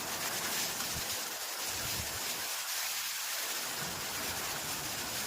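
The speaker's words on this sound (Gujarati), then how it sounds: "કડાકા ભડાકા સાથે વાવાઝોડા સાથે વરસાદ જોરદાર ચાલુ થઈ ગયો છે" Heavy rain pours in a dense, steady hiss during a thunderstorm with strong wind, with low rumbling swells underneath like distant thunder.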